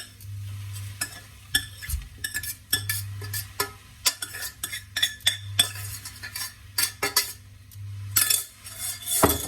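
A utensil scrapes and clinks against a pan as second-day rice with a splash of added water is stirred, irregular metallic strokes close by over a low sizzle, no voices.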